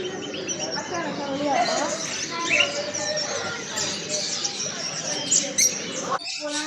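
Parrots of different colours chirp and squawk at a busy Friday market in Kuwait, scattered bright calls rising over steady crowd murmur and nearby talk.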